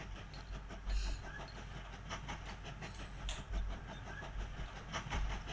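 Train engine in the railway game Mashinky, a rumbling running engine with rhythmic clickety-clack of wheels on rails and periodic heavier thumps, steady and close.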